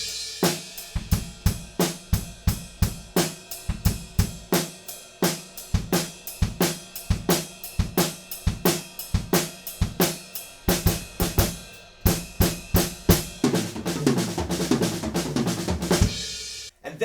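Acoustic drum kit plays the intro of a song, dense sharp hits and cymbal crashes in driving rhythm, building into a busy tom-heavy fill toward the end, loud and close.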